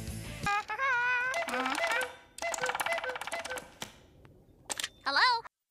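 Telephone keypad tones from a SpongeBob SquarePants cartoon as SpongeBob calls Sandy, a string of close electronic beeps and tonal bursts in several separate runs with short pauses between them.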